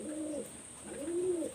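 Pair of Kamagar pigeons cooing close by in a loft, two drawn-out rolling coos separated by a short pause, with a steady high whine behind them.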